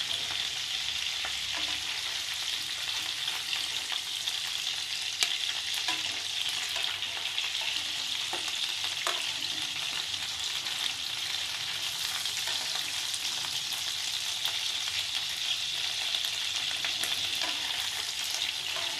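Chapli kababs made of raw minced meat frying on a medium flame, giving a steady, even sizzle of hot oil that carries on unbroken for the full length, close by with no talking.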